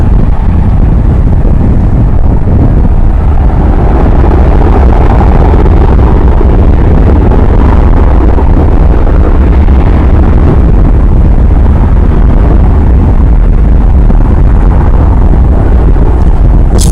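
An airliner bound for Los Cabos, Mexico, takes off from DFW Airport: a loud, steady, broadband jet roar with deep rumble that holds for the whole stretch, with no voices.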